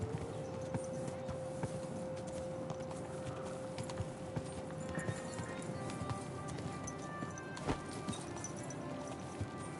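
Horse hooves clip-clop steadily at a brisk pace, quiet and continuous, over a hum of background sound in the video game Kingdom Come: Deliverance II.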